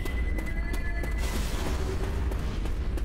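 A pipe bomb goes off in Left 4 Dead, heard as a sustained low boom with dense rumbling debris that holds steady across the whole moment, no speech over it.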